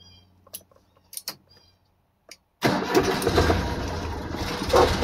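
A 1988 Subaru Justy engine cranks and catches after a few quiet clicks and key sounds, then settles into a close, steady rough idle.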